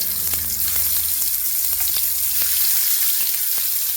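Pieces of food dropped one by one into hot coconut oil set off a loud, continuous sizzle dotted with sharp crackling pops, heard alone with no voices.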